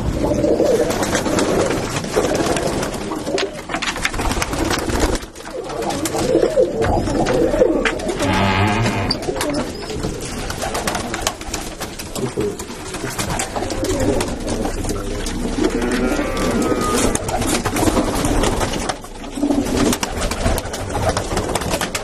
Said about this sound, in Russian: Голубей надо просто любить.